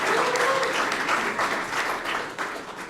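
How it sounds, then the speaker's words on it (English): An audience at a Surgeon General swearing-in ceremony bursts into applause, a dense wash of clapping that holds steady for a few seconds before tapering slightly. "Everybody give Jalen a round of applause."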